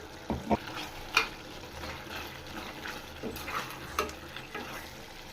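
Mutton chukka being stirred in a pan with ground spice powder, with a few sharp scrapes and spoon knocks over a soft, steady sizzle, close and moderately quiet.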